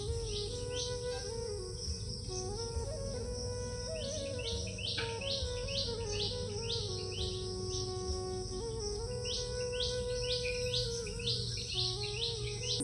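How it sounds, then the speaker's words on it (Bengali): Village morning birdsong near rice paddy fields: many small birds chirp in quick repeated bursts over a steady buzzing insect drone, moderately near and continuous throughout. "পাখির কিচিরমিচির শব্দগুলো কি সুন্দর ক্যাপচার হচ্ছে"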